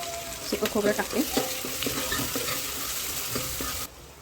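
Chicken masala fries in oil in a pan while being stirred, with several scraping strokes near the start over a steady, close sizzle that runs to the end.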